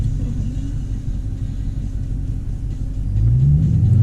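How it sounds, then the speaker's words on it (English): A manual Dodge Challenger idles with a deep, heavy rumble, then the engine note rises as it pulls away in first gear, loud and close from inside the car. "now you're gonna slowly let off the brake, let off the clutch, and give it gas"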